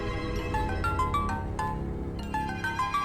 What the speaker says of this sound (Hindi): विक्की के पापा का फोन है।